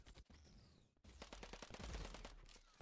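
Rapid SMG gunfire in a first-person shooter such as Warzone or EV.io: after a short burst and a brief gap comes a sustained stream of quick, evenly spaced shots, fairly faint overall, with no talking.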